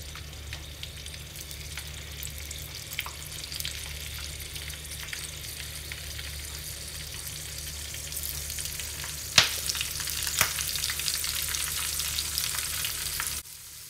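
Battered shrimp fry in hot oil in a small non-stick wok, giving a steady, dense sizzle that goes on throughout with a few sharp crackles and pops near the close, with no voices.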